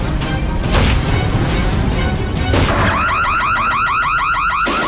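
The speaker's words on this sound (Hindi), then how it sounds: "ये तो चोर अलार्म है।" A burglar alarm in a house wails in a rapid warbling siren pattern, loud and close, cutting in after heavy crashing and banging noises.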